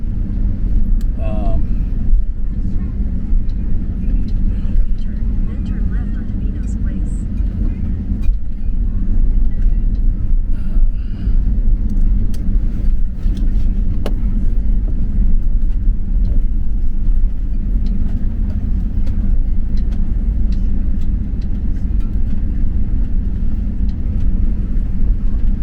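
A car engine idles after starting, a steady low rumble that runs unbroken and fairly loud throughout, with faint voice sounds now and then.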